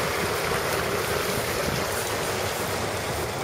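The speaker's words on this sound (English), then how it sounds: "that water, you can hear it roaring from up from the house there. It's making two little waterfalls." Rainwater after a heavy spring downpour in Elgin, Texas, rushing over two small waterfalls, a continuous broadband roar that stays steady and fairly loud throughout.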